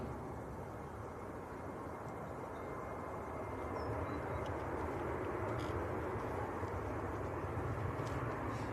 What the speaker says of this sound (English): BA from Heathrow just touching down.